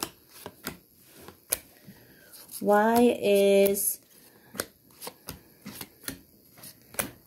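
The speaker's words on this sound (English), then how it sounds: "I want to make sure that I've shuffle this properly." A deck of cards being shuffled during a yes-or-no card reading, a dense riffling burst lasting about a second amid scattered card taps and soft clicks, with brief talk heard near the start.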